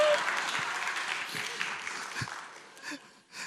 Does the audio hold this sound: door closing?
no